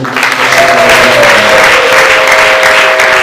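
A church congregation breaks into loud, sustained applause during a service, dense clapping filling the room for several seconds with a few voices faintly mixed in.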